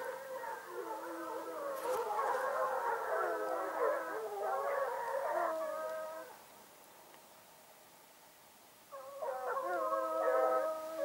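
A pack of hunting dogs bays while chasing a hare, overlapping howling cries from a moderate distance in two bursts separated by a quiet pause.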